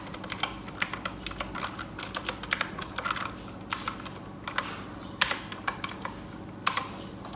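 Computer keyboard typing in quick irregular bursts of close, crisp key clicks with brief pauses between runs, during macOS Sonoma installation setup; no voices.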